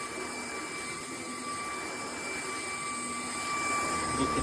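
Hoover ONEPWR Evolve Pet Elite cordless stick vacuum running steadily, a close, continuous motor whine with a bright high-pitched tone that swells slightly louder near the end.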